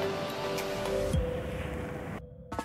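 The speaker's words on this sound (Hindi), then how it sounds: "मैं इसमें ऐड कर रही हूँ 2 टेबलस्पून चॉप्ड ऑनियन और इसको भी इसी तरह से फ्राई कर लेना है बिल्कुल लो फ्लेम पे" Chopped onion and garlic fry gently over a low flame for a white-sauce chicken Alfredo penne, giving a soft, continuous sizzle with faint clinks and no talking.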